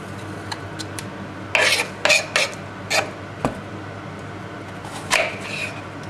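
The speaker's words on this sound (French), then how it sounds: "Alors les pommes, on va les peler, les couper." An apple being peeled with a knife in a home kitchen while making an endive salad, a handful of short scraping rasps at uneven intervals over a quiet background.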